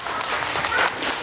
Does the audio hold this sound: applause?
yes